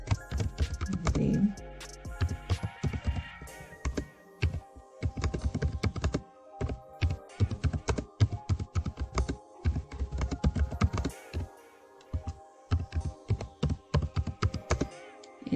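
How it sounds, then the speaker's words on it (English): Typing on a computer keyboard while building a question in Google Forms, with dense bursts of close, crisp key clicks, irregular rhythm and brief pauses between runs. "You can type your question here."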